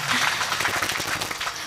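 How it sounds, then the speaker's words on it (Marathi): A kirtan audience claps in a dense, steady burst, many hands together filling the brief moment close and loud. "वाजवा टाळ्या मी बंद करणारे आता."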